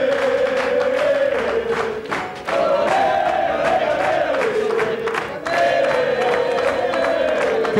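A large crowd of fans at an athletics jumping contest roars and cheers loudly and continuously, the chanting swelling and dipping in waves with sharp shouts rising above the din.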